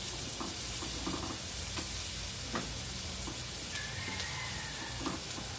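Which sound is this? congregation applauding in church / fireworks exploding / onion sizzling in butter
onion sizzling in butter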